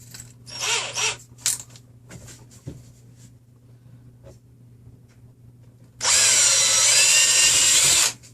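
An electric drill with a 3 mm bit bores a hole into an MDF 3D-printer bed, a few short bursts and chatter early, then one sustained loud whir for about two seconds near the end.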